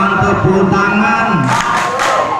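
A loud crowd of protesters at a workers' and students' rally shouts and cheers together, a dense roar of many voices, with a burst of clapping near the end.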